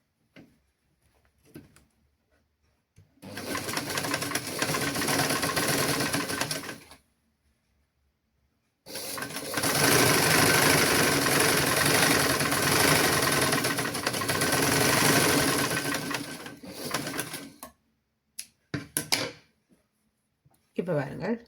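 A sewing machine stitches children's clothing in two long, loud, steady runs separated by pauses, with a few short bursts at the end and a voice talking in the quiet gaps.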